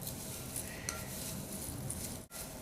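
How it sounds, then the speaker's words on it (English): Homemade herbal skin care mixture being stirred in a bowl, a steady close scraping swirl that runs continuously and quietly, with a brief break near the end. "I'm going to go ahead and mix this up."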